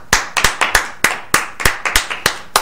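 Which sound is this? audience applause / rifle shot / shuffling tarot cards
audience applause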